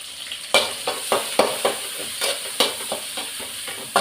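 Onions with green chili and turmeric sautéing in a pan, stirred with a ladle: a steady close sizzle punctuated by sharp knocks and scrapes of the ladle every half second or so, no speech.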